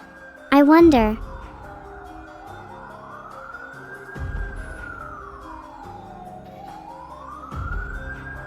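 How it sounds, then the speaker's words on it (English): A police siren wails in the background, sweeping slowly up and down and staying faint and steady, while a brief vocal sound rises near the start. "there were police sirens in the background just a few seconds ago"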